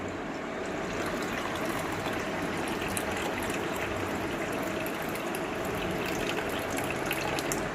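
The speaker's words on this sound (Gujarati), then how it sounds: "આપણે હવે એને ગાળી લઈશું. એક બાઉલમાં, ક્લીન બાઉલમાં" Liquid is strained through into a clean bowl, a steady close trickling and splashing stream that runs evenly without pause from start to finish.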